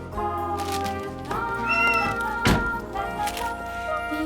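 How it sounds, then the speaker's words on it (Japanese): A cat meows loudly and close over a steady musical background, with a couple of drawn-out, tonal cries and a dull thunk partway through. "猫。"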